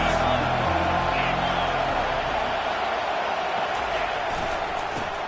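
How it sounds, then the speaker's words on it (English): A stadium crowd at a Penn State versus Ohio State Buckeyes football game roars loudly and steadily, a dense continuous wall of noise that holds without a break. "This crowd trying to make life miserable for this offense."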